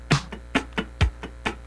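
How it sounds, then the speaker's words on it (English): Funk rhythm guitar scratching straight, even 16th notes over a drum machine, evenly spaced percussive muted strums with a low kick thump, close and moderately loud. "If I scratch 16ths with a drum machine like this"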